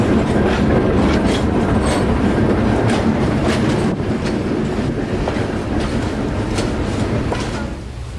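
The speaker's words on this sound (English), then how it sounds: "And engineer Tom makes sure to get the train moving quickly." A train on a museum railroad rolls steadily along the rails with a loud, continuous rumble and rhythmic clattering of the wheels, close and unbroken throughout.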